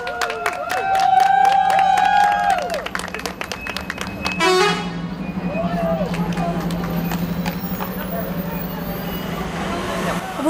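Relatives welcome a children's dance troupe home from a festival abroad with noisy applause, cheering and honking car horns, a loud crowd din with talk and horn blasts mixed throughout.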